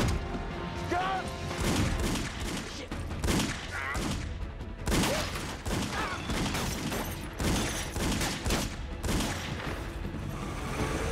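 Gunfire in an action movie shootout, dense rapid shots and crashes layered over a constant loud score, with shouting voices mixed in throughout.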